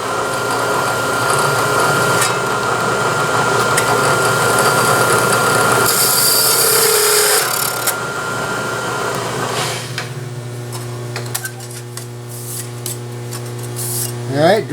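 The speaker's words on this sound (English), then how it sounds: "let's see how this new drill works here" A new, freshly ground sheet metal drill bit bores a hole in sheet metal on a drill press, giving a steady loud whirring grind that cuts off partway and leaves a quieter motor hum with ringing tones and light clicks.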